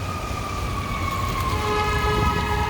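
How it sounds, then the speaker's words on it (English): Emergency vehicle sirens wail as ambulances pass along a rainy downtown Chicago street, a steady rising and falling tone that holds loud and close over the hiss of wet traffic and rain. "you hear some sirens and ambulances coming"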